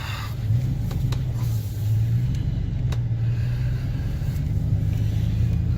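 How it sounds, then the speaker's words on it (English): A repaired truck drives on a road, its engine holding a steady low rumble heard from inside the cab, with faint clicks and rattles above it and no talking. "I'm just going to take it for a short drive and make sure no surprises pop up"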